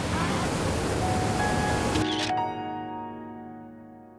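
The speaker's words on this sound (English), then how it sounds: "Here it's the sound of the waterfalls," Bushkill Falls waterfall pouring in a steady, full broadband rush for about two seconds, then the roar abruptly drops away to a quieter tonal hum as the scene cuts.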